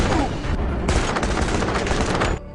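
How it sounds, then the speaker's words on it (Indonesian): Rapid bursts of automatic gunfire in an action film, loud and dense continuous shots with booming impacts, cutting off abruptly near the end. "Alex mati tertembak, sementara Espin juga terkena tembakan di kakinya."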